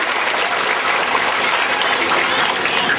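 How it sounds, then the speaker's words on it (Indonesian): Audience at an Islamic religious study gathering on a school campus clapping together, a dense, even wash of applause held steady from start to finish. "Tepuk tangan dong"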